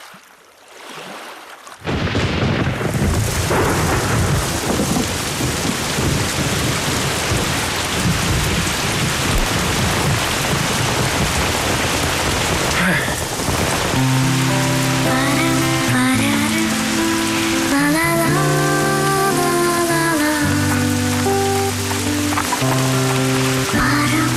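Heavy rain pours steadily in a Smeshariki cartoon scene, with thunder rumbling in it. Music enters partway through and plays over the downpour.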